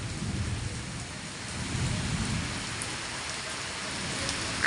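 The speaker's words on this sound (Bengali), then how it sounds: "এই দেখেন বৃষ্টি" Steady rain falling close by, a continuous hiss with low rumbling swells that suggest distant thunder, no voices.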